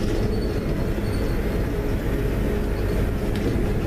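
Steady rumbling of a train in motion, heard from inside, with constant low roar and faint wheel squeal, no talking.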